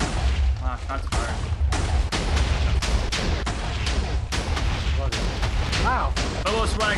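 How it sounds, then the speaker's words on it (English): Dense, loud barrage of TNT cannon explosions in Minecraft, booms and blasts firing in rapid succession throughout without pause, with people talking over the chaotic detonations. "Look at all TNT landing on that roof."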